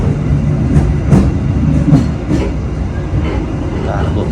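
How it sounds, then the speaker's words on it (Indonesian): The Gaya Baru Malam Selatan passenger train rumbles along the rails, loud and close. A steady low roar carries faint wheel clacks, and speech is heard partly under it. "kereta api Gaya Baru Malam Selatan dengan tujuan akhir stasiun Pasar Senen"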